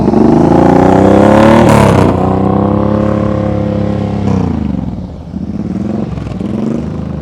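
Motorcycle engine revving near at hand during slow-speed riding practice, with repeated throttle blips that rise and fall in pitch over a loud, steady engine note.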